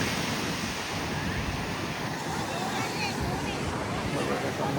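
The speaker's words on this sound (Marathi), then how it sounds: "बघा लाटा दिसत आहे." Sea waves on the shore beside Somnath temple in Gujarat, a constant loud roar of surf with wind buffeting the microphone and faint crowd babble.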